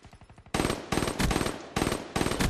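Submachine gun fire in the Black Ops 3 shooter game comes in loud rapid bursts: quick rattling shots at first, then dense sustained volleys broken by short pauses.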